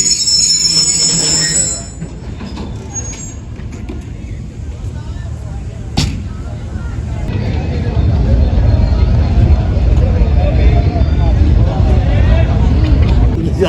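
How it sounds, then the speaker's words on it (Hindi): The Milat Express pulls out at night with a steady rumble of rolling wheels and clatter that grows louder partway through, plus a sharp metallic bang, while a voice talks over the start. "मिलत एक्सप्रेस का डिपार्चर हो रहा है"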